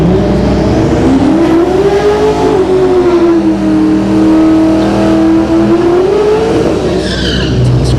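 Two Cadillac drag race cars rev hard and accelerate at a Friday night drag racing event at Orlando Speed World, the loud engine note rising and falling steadily with no break, then a brief tire chirp near the end.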